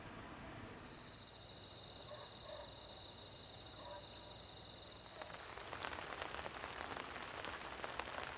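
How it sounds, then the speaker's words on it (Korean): Night rain beginning to fall at a fishing spot, a faint, soft patter that thickens into a steady hiss, with insects chirping steadily and quietly in the background. "일기예보대로 밤이 되니까 비가 내리기 시작하는 소리지에서"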